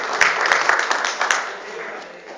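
A crowd at a March 8 celebration applauds, a thick burst of clapping with a few sharp claps standing out, then slowly thins and fades over about two seconds.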